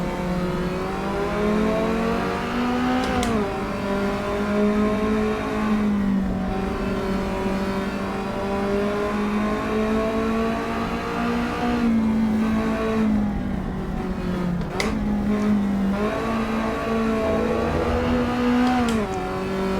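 A race car engine in Assetto Corsa Evo holding a steady, loud drone, its pitch rising and dipping slightly through gear changes and lifts, with no voices.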